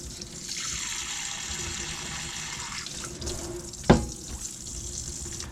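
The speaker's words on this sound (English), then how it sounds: "we had hot water coming out of our shower" Hot water runs from the shower of an Adora 612DL Seine 2019 caravan in a steady, close rushing stream. A single sharp knock sounds near the end.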